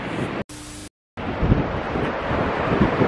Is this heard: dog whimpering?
no